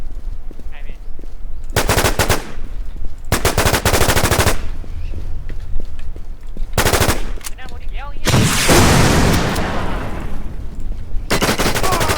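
Loud automatic gunfire from the online shooter War Inc comes in several long rapid bursts separated by short gaps, with one burst followed by a booming blast.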